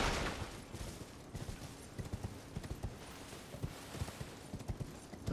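Horse hooves clip-clop in Elden Ring as the rider trots along, a quick, steady run of hollow thuds under busy game ambience, fairly near and continuous.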